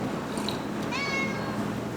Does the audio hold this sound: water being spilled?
no